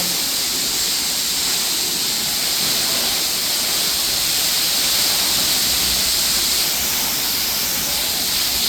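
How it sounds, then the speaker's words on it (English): Water rushes steadily through the heart of an old stone mill, a loud, unbroken broadband roar with a hissing top that holds constant throughout, with no voices over it. "Like you can hear all the water."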